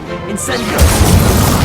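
A magical fire spell, Incendio, cast in the game Hogwarts Legacy, a brief whoosh building into a loud rumbling burst of flame that fills the short moment; no speech is heard.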